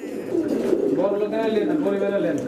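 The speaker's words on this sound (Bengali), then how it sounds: "কবুতর আজকে তো ভাই ফ্রেশ মার্কিন সব কবুতরই নতুন আর খুব রিয়ার কবুতর বর্তমানে এগুলো চলতেছে" Fancy pigeons coo at a pigeon market, their soft, continuous throaty calls blending with people talking nearby throughout.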